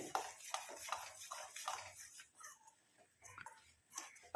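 Herbal hair oil being stirred in a pan after the stove is switched off, with repeated light scraping and clinking of a spoon against the metal, steady and close, with no talking.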